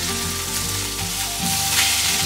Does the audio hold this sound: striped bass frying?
yes